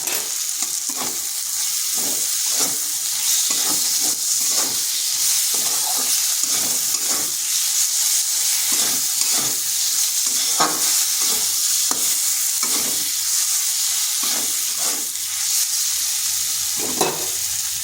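Spice paste sizzling in a pan with tomato and salt while a spoon stirs it in steady strokes, a constant loud fry hiss with regular scraping through it.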